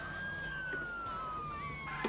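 A fire engine siren in the MTA multiplayer video game wails faintly in the distance, its tone gliding slowly downward over a quiet background.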